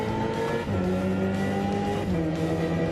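A synthetic racing-style engine note, played by a Hyundai Ioniq 5 N electric car, drones and shifts pitch as the car accelerates, loud and continuous throughout.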